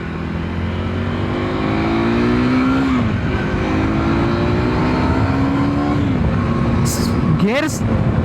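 A KTM Duke 390 R single-cylinder motorcycle pulls hard through the gears, its loud engine note rising steadily, dipping at each shift, then climbing again, close and continuous with a voice over it.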